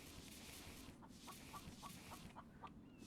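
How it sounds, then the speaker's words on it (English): Several short clucks from a chicken in a video game (The Infected) sound at a distance over a steady background hum, spaced irregularly through the second half. "Oh, I do hear a chicken."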